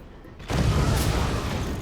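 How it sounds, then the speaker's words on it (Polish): A sudden heavy boom erupts and rolls into a sustained, loud roaring rumble, a mortar firing close by in a naval battle in the video game Forts. "Ja za to mogę walić z moździerza."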